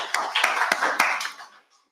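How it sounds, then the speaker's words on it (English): A small audience at a pulmonology and rheumatology summit gives the speakers a brief round of distinct hand claps that thin out and fade to silence within two seconds. "let's give them an applause"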